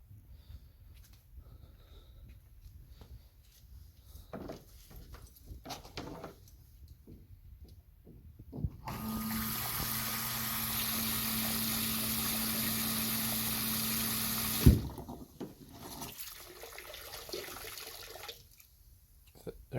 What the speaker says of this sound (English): I don't think it's supposed to spray water out.